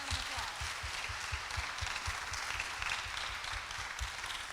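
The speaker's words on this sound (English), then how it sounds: "So let's give Christina Danforth a big round of" Audience applauding a student's national merit semifinalist honor at a school PTO presentation, a steady, even wash of many hands clapping at a distance, continuous throughout.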